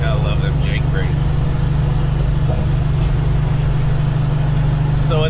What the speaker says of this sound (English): let's get a little truck noise. It might be too much, but gotta love them Jake brakes.